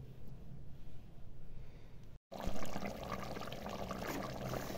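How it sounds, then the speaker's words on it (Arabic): Hot water is poured into a cooking pot of stewing trotters, first as a soft, muffled trickle and then, after a brief cut, as a louder, fuller, steady stream close by. "نشفات زيدوها الماء سخون"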